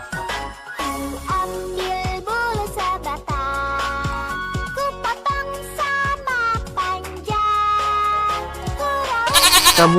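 A goat bleats repeatedly in a loud, wavering series of cries, one after another at close range, with a brief jingling tone toward the end.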